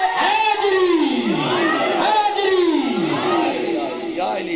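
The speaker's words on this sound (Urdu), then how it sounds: "دم دم ہر دم نعرے حیدری" A crowd at a Muharram majlis gathering in Jhang chants a religious slogan in unison, rising and falling in rhythmic swells of loud voices that fill the room.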